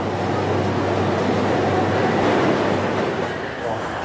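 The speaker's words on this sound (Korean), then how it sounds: "네, 아리산 열차." Alishan mountain railway train in Taiwan, a steady loud rumble of rolling carriages with a low droning hum, continuous and close, without clear breaks.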